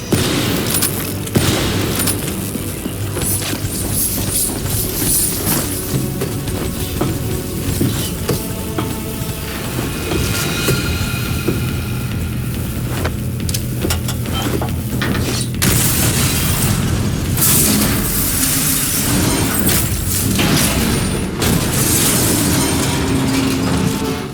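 Grenade blasts and heavy combat booms in Call of Duty: Black Ops 3, a continuous loud barrage of explosions and rumble throughout, with no talking.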